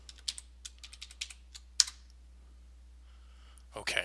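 A password is typed on a computer keyboard: a quick, uneven run of close, crisp key clicks, then a short quiet stretch before a brief burst of sound at the end.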